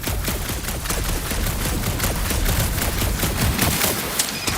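Peter firing his weapon in the Guardians of the Galaxy video game: a dense, continuous volley of rapid gunshots rattling for several seconds, loud and close, with no speech over it.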